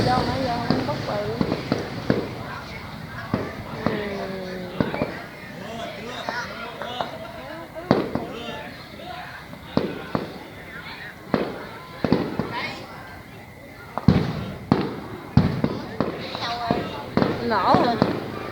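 Year-end fireworks burst repeatedly, sharp cracks and booms scattered irregularly over nearly twenty seconds, some near and loud, others fainter, with crackling between and people talking in the background.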